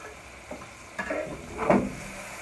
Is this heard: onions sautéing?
yes